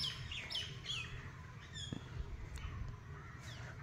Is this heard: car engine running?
no